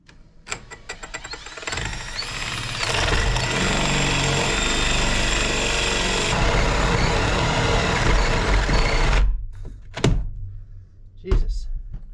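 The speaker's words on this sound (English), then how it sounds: "that should get us in between those studs. So let's drill" A loud drill grinds and rattles continuously for several seconds while boring through thick doubled 2x4 wall studs, then stops, followed by a couple of sharp knocks and a short burst.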